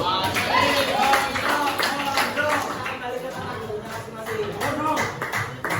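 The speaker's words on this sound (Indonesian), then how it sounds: "beri tepuk tangan untuk kelompok 1" Students in a junior high school classroom clap for a group after its presentation, a loose, moderate patter of hands mixed with chatter and shuffling, with voices talking over it.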